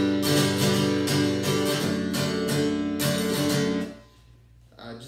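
Acoustic guitar is strummed hard with a tense wrist that digs into the strings, giving steady, harsh, clattering chord strokes, loud and close, before ringing out and stopping near the end.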